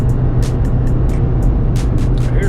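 A Suzuki Jimny on old gear ratios cruises at about 93 km/h, a steady loud low engine and road drone heard from inside the cabin, with brief higher hisses over it.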